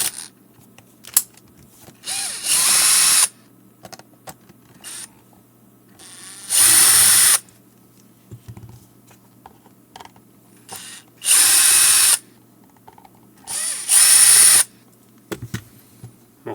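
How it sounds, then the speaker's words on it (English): A powered screwdriver backs Phillips screws out of a Garmin or TomTom GPS unit in four short whirring bursts, separated by quiet pauses with small handling clicks. "So you can use any Phillips screwdriver. I'm going to use a powered"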